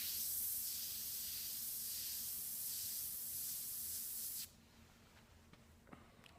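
An airbrush spraying thin cursive lines while writing a name, a steady close airy hiss lasting about four seconds, then cutting off to near quiet with a few faint clicks.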